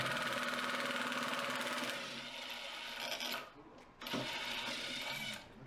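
A DeWalt battery-powered impact driver runs under load in a test, giving a dense, steady rattling hammer that slows and labours, stops briefly, then resumes before fading, close and moderately quiet.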